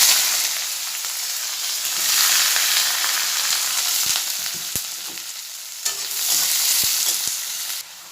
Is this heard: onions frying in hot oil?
yes